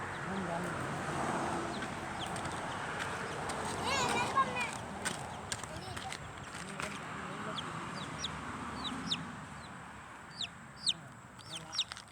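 Chickens cluck near the microphone while being fed uncooked rice, soft scattered clucks and short calls over quiet rustling, with a person speaking now and then.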